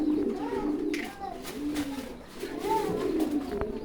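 Domestic pigeons at a Bengali pigeon seller's, including a checker hen paired with a blue bar male, coo repeatedly in soft rolling phrases, several birds close by with a faint voice in the background.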